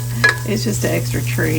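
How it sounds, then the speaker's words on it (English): Scrambled eggs fry in a home kitchen pan, giving a steady close sizzle with scraping stirs while someone talks briefly over it. "make scrambled eggs"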